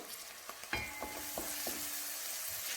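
Small sliced shallots sizzle steadily in a hot pan for a beef roast, a continuous bright frying hiss broken by a few soft clicks and scrapes from stirring, close and alone with no voices.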